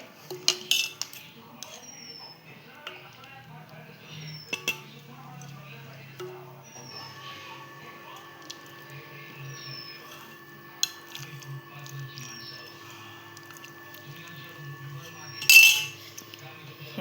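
Sambar being served onto idli with metal utensils, with sparse, clear clinks and taps of a spoon against steel dishes, spread across a quiet stretch along with a few short voices and a low steady hum.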